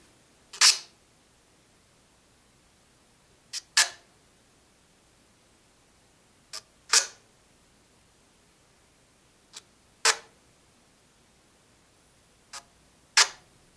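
Short, sharp clicks arrive in pairs, a faint tick followed by a louder snap, spaced evenly about three seconds apart over near silence.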